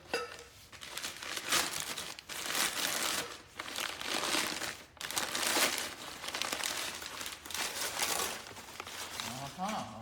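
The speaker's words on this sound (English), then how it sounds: "Then we'll bring this other axle up here, unwrap it." Plastic packaging is peeled and crinkled off a Cub Cadet fine spline axle in loud repeated bursts of rustling and crumpling, separated by brief pauses.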